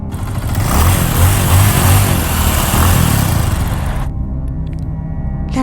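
A small outboard motor on a fishing banca (bangka), droning loudly and steadily for about four seconds before cutting off abruptly into near silence.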